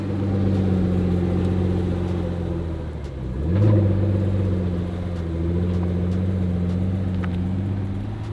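A Pagani supercar engine runs steadily with a smooth, loud hum, swelling briefly midway as it revs, then settling back to a sustained tone with no talking.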